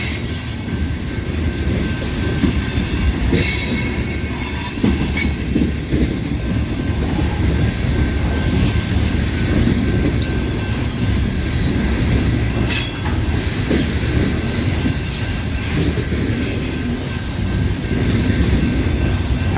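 A CSX coal train with DPU locomotives slows into Hood Siding, its wheels squealing continuously over a heavy rolling rumble and occasional clacks, close and loud throughout.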